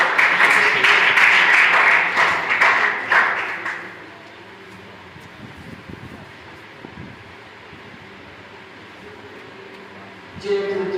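An audience at a memorial seminar applauds to welcome a guest, with dense steady clapping that lasts about four seconds and then breaks off. Quiet room noise and faint rustling follow, and a brief burst of sound comes near the end.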